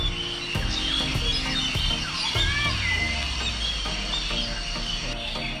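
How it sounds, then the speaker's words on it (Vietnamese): Birds of several kinds chirp and call inside a tall netted aviary at the Vinpearl Safari wildlife park on Phu Quoc. Bright tweets and whistles overlap at moderate distance above a steady hiss of insects and background hum. "là nhiều loại chim sống bên trong này"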